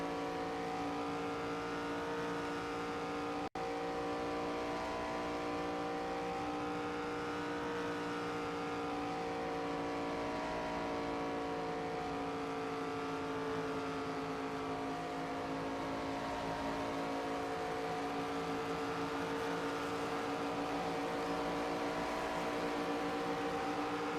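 ARCA stock car engines drone steadily at high revs in the NASCAR 25 video game at Michigan, a continuous loud engine whine with slight pitch drift and no talk.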